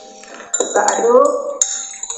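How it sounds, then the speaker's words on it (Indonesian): A NaCl solution is stirred in laboratory glassware: a quiet start, then a cluster of clinks and scraping rattles from a stirring rod against glass, followed by a few lighter taps. "Kita aduk."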